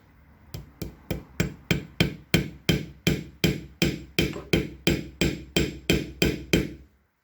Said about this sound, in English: Just gentle taps with a polished hammer.